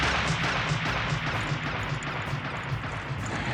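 Sustained battle gunfire from a sniper scene in the war film Full Metal Jacket, a dense, loud wash of shots and rumbling reports with no clear gaps, continuous across the short stretch.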